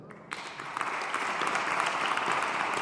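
An audience at an arts salon bursts into applause after a brief quiet moment, steady close clapping from many hands that holds for several seconds.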